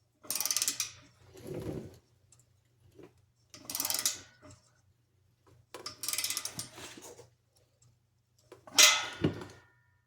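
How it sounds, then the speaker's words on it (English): A ratchet tightens a Borla exhaust clamp on a Ford Taurus SHO, giving four close bursts of rapid clicking separated by pauses. "This is probably going to keep going until it gets that shape before I really start torquing down."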